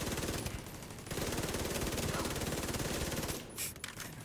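Black Tusk enemies in a video game firing rapid automatic bursts, a dense, loud stream of shots that runs almost continuously before breaking off near the end.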